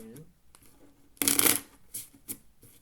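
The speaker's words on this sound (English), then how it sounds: "And then I'm going to do this shuffling again" A deck of playing cards riffled and shuffled at a poker game, one loud crisp burst of fluttering card noise followed by a couple of shorter card flicks, with a voice speaking nearby.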